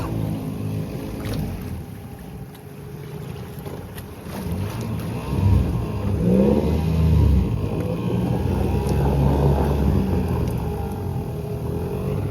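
The engine of a small fishing boat revs while reversing, a steady rumbling drone that swells louder midway and holds, heard close with wind buffeting the microphone and water noise around it.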